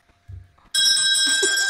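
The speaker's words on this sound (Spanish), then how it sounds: "Pues sí que te suena como las campanillas." Bright chiming little bells in a GTA V roleplay game ring out loud and sustained after a brief low murmur, a shimmering tone that holds steady with faint voices underneath.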